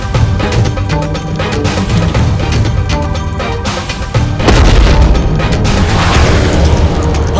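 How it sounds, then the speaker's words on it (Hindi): A loud explosion sound effect in a Hindi mythological TV series, a dense booming roar that runs continuously through the whole stretch and swells into a heavier blast partway through, with no speech over it. "ये कैसा विस्फोट हुआ वहां पर?"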